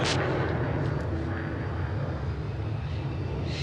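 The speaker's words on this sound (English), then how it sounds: "we just saw XB-1 leave the ground" Boom XB-1 supersonic jet takes off at Mojave, California, a broad, loud roar that holds steady across the whole stretch, heard from a distance with no voices over it.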